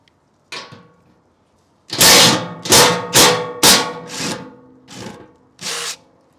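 A power tool removes the bolts on a Toyota Tacoma TRD skid plate, with a short buzz and then several loud, close bursts of whirring, each about half a second long with short gaps between them.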